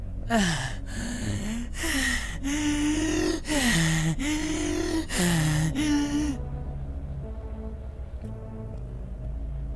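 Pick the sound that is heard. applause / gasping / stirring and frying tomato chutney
gasping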